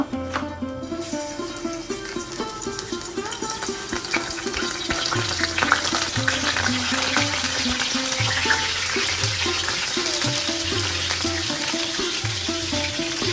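Barracuda pieces coated in spice paste fry in hot oil with a steady, dense sizzle, while a soft tonal melody plays underneath throughout.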